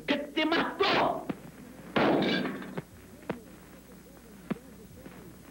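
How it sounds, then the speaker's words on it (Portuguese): Gunfire in a 1947 Brazilian comedy film: two loud, rough blasts a second apart, each ringing out into a brief echo, followed by scattered softer thuds and a faint voice. "Quando ouviste um tiro pela última vez?"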